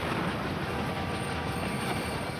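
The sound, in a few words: train in an Ad Council PSA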